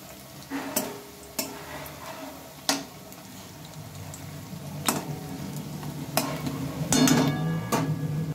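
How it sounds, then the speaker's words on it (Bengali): Eggplant pakoras frying in a little oil in a pan, a soft continuous sizzle broken by sharp intermittent clicks and taps of a utensil against the pan, close up without talking. "এগুলো কিন্তু অল্প তেলেই ভাজা হয়ে যায়, বেশি তেলের প্রয়োজন নেই"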